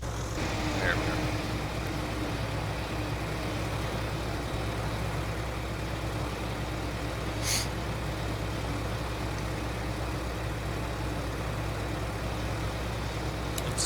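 A farm tractor engine running in a Vojvodina, Serbia setting, a steady low rumbling drone held throughout with faint background noise and a brief sharp click near the middle.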